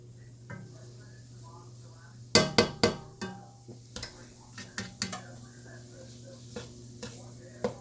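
Spoon stirring vegetables sauteing in butter in a pot for cream of wild rice-chicken soup, a burst of scraping knocks and clatters over a low steady hum, then softer intermittent stirring.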